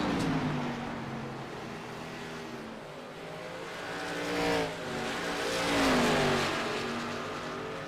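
Race cars roar around Phoenix Raceway in a racing video game, with several loud engines revving and passing in a steady, continuous drone that swells and fades as they go by.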